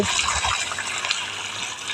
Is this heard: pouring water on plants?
yes